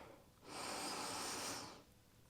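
A single long breath during a vinyasa yoga exercise, heard alone and close, with a soft airy rush that swells and fades over about a second and a half.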